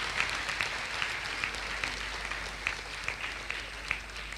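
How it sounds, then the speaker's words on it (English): An audience at a medical college convocation ceremony gives a round of applause, a continuous patter of many hands heard from a distance, fairly faint, with a few slightly louder claps poking through and no talk. "Please give them a loud round of applause."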